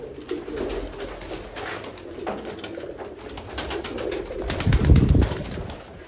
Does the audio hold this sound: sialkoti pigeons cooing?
yes